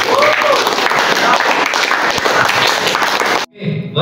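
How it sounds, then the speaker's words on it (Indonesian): Classroom group applause during a learning-styles lesson, loud, dense clapping for about three and a half seconds that cuts off abruptly, followed by a brief voice. "Tepuk tangan dulu."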